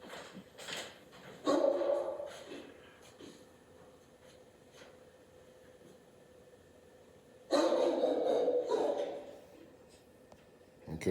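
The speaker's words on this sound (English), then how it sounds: "you see even my dog is barking" A dog barks in two bursts, a cluster early on and a louder run of barks later, against a quiet outdoor background on a Saturday morning, with a faint steady hum between.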